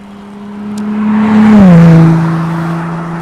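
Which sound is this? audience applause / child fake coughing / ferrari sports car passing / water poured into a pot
ferrari sports car passing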